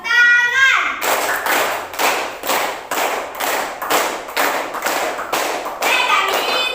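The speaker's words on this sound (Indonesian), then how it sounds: "Tepuk tangan." Children in a fifth-grade classroom clap their hands together in a steady, evenly spaced rhythm of sharp claps. A voice is heard briefly at the start before the clapping begins.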